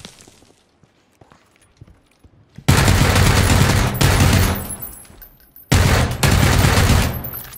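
Gunfire in PUBG, loud bursts of shots in two dense volleys after a quiet opening with faint footsteps, each burst sustained for a second or more and close up.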